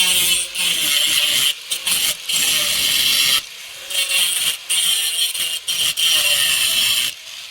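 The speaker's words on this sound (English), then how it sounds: "my method for that is to cut across the rivet" A power tool cuts across a rivet in repeated loud, harsh, gritty bursts with brief pauses between them, close by and heard alone.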